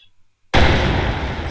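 A tank cannon in a multiplayer tank video game fires once, a sudden loud blast that cuts in from near silence and then holds as a dense, sustained roar for the rest of the moment.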